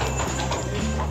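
Horse hooves clip-clop steadily and close by on a moonlit night ride through snowy wilderness in the Austrian Alps, a continuous rhythmic plodding with faint background noise.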